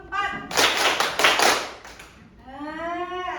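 Third-grade elementary students clap in a counted classroom rhythm, a series of sharp loud claps in quick bursts followed by a voice speaking.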